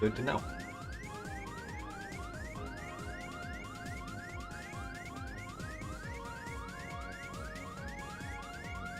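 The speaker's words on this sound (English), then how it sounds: "I apologize for the incessant beeping" Incessant low-HP warning beeps from Kingdom Hearts Final Mix, a rapid and steady repeating electronic tone that runs the whole time over busy game sounds, while someone speaks briefly.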